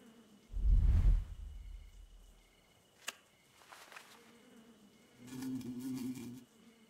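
A bee buzzes in the video game Darkheart: Flight of the Harpies, with a loud, close low hum near the start, a faint click, then a softer buzzing swell later, all without talking.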